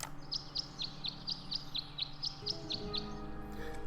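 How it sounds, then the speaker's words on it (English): Game birds at a bird bath in Tangle Tower sing a clear, evenly spaced run of bright chirps, about a dozen notes. A soft low musical drone plays underneath and rises toward the end. "The birds seem to like it. They're even singing a little tune."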